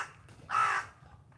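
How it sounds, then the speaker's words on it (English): A single harsh caw from a crow on a Tokyo street, close and clear over a low hum of city background. "it's a crow eating something"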